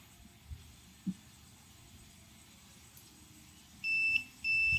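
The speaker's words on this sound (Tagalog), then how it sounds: "So ayaw mag-on, naka-alarm lang siya. Naka-fault." A faulted solar charge controller in a portable solar generator sounds its alarm: two long, steady electronic beeps near the end, loud and close after a stretch of quiet hum with a couple of faint knocks.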